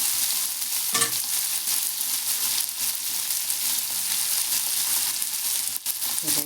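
Masala pav bhaji cooks in butter on a hot pan, a loud, continuous sizzle with occasional scraping strokes of a spatula stirring, heard up close without talk.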